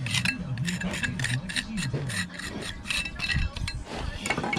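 A brush scrubs over fresh mortar joints on fieldstone veneer in quick, repeated rhythmic strokes, with a continuous low rumble of background noise underneath.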